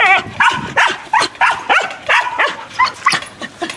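Draco, a big Rottweiler with a large head, barking in a rapid run of about a dozen loud, close barks and yips with short gaps, no talk over them.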